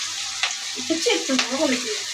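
Semiya pakoda batter made from gram flour drops into hot oil in a pan and sizzles with crackling bubbles, close by, while a person briefly speaks.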